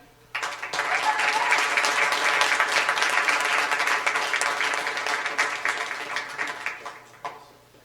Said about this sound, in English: a round of applause for all of our students